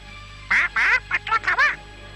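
Pet parrot in a cartoon giving a rapid burst of six or seven raspy, nasal squawks, loud and close, over a faint steady background hum.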